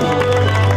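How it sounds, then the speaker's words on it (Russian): Applause from the crowd at a women's 60 kg boxing quarterfinal, a steady dense wash of clapping filling the hall, continuous and moderately loud throughout. "Аплодисменты, конечно."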